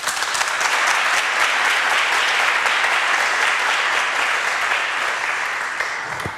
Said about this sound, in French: ils vont se manifester par des applaudissements